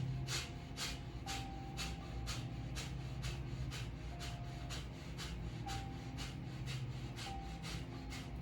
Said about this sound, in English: you can let the lips close and do the Kapalabhati breath,